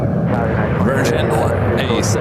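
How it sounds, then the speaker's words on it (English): A Boeing 787-9 Dreamliner arriving from London Heathrow at San Francisco airport gives off a loud, steady engine rumble and roar, while someone talks over it close by. "A787-9 Dreamliner coming in from London Heathrow, now making its way over to the international terminal"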